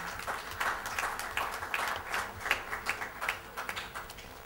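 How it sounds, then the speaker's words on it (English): An audience at an education conference applauds for each other, with moderately near, uneven clapping showing some distinct individual claps, fairly light and steady throughout with no voices. "So I would ask you to give each other a round of applause as well"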